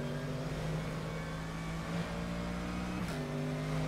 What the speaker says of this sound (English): The engine sounds are good. Maybe a little clinical, but it's a nice sound.